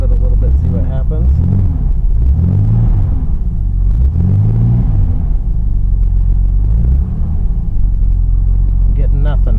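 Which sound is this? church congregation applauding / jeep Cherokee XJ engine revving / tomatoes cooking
jeep Cherokee XJ engine revving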